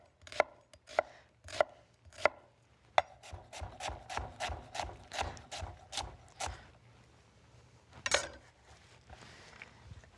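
Red onion being chopped with a knife: a string of close, crisp blade strikes on a board, some single and spaced, then a quick steady run of even chops, with no one talking.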